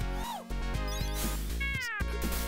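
In the video game Michael Jackson's Moonwalker, a cat lets out a couple of clear, rising-and-falling meows over a steady, rhythmic music backing, with sharp electronic blips near the end.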